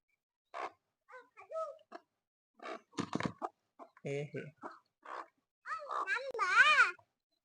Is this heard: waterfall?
no